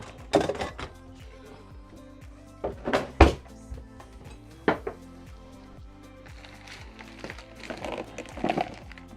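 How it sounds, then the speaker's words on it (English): A dog knocking things over in a home kitchen: several sharp thuds and clatters, with one loud knock near the middle and a softer rattle toward the end, over a faint steady background hum. "Dog's knocking things down."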